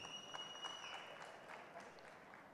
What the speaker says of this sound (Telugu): so big round of applause for Chandy